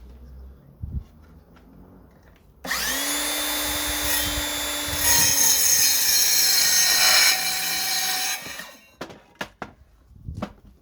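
A Makita DLS713 18V cordless mitre saw spins up with a rising whine, bites into 4x1 wood with a louder grinding cut, then spins down, followed by a few sharp clunks.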